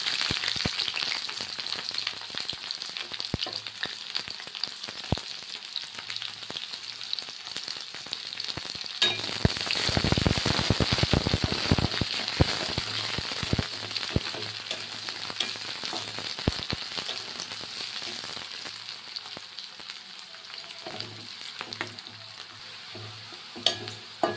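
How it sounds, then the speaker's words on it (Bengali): Potato, onion and okra pieces frying in hot oil give a continuous close sizzle that swells into a louder burst of crackling near the middle, with occasional utensil scrapes and no talking. "তেল গরম হয়ে গেছে, এবার আলু আর পেঁয়াজ আর ভেন্ডি ভেজে নেব।"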